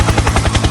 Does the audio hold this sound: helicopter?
yes